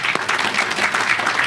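An audience at a ribbon cutting for the Brown School Lofts at Legacy Heights in Winston-Salem applauds, steady dense clapping from many hands filling the short moment without a break.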